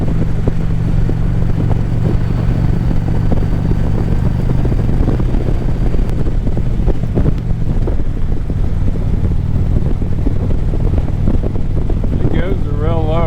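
A Honda Goldwing motorcycle cruising in fifth gear gives a steady, close engine drone under constant wind rush and buffeting that carries on unbroken throughout.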